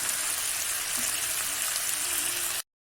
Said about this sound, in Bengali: এরপর সবগুলোকে একসাথে ভালো করে হালকা আঁচে ভেজে নেব।